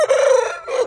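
A backyard rooster crows up close, one loud, drawn-out call followed by a shorter second burst, with no other voices.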